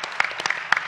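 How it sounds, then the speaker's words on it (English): A handful of distinct, loud claps ring out as an audience applauds a presenter at a startup launch festival session, sharp separate hits close together over a short moment. "One big round of applause for Matthew and driving."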